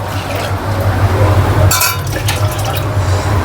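Water pours into a metal pressure cooker with a splashing, gurgling rush, preceded by a glassy clink and a low steady hum underneath.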